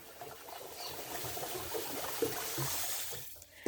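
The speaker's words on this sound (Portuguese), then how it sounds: "agora, ó, eu tô dissolvendo bem esse açúcar na água" Sugar being stirred into water in a bucket, a continuous wet swishing and sloshing with a few soft knocks against the sides, close by and without voices.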